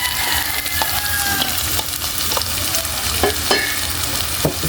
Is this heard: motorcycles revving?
no